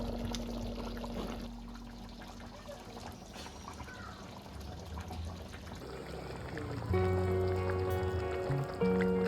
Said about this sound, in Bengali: এই সময় আমি মাছগুলো দিয়ে দেবো।